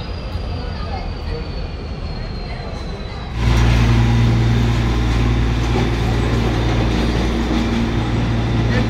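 A DEMU train runs on rails out of Siliguri Junction, a loud, steady low rumble with rail noise that rises sharply a few seconds in and then holds close and constant.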